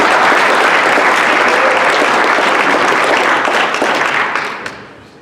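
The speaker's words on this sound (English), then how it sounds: "Please give him a round of applause." An audience applauds at a Detroit Blockchain and Fintech Pitchfest: dense, steady clapping from a crowd that holds at full strength for about four seconds, then fades out.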